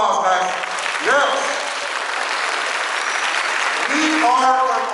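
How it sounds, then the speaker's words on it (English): Audience applause at a school fine arts recruitment event for the Uvalde CISD band program, a steady dense wash of clapping lasting the whole stretch, with a voice speaking over it near the start and again at the end. "Give a round of applause, guys."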